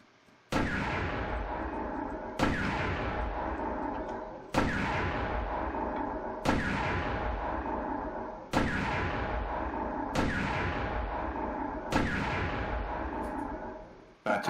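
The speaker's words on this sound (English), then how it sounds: "Gun number 1 fire." An artillery gun in the WW2 Online game fires eight evenly spaced, booming shots about two seconds apart, each a loud, close blast with a long rumbling decay that runs into the next, and no voices.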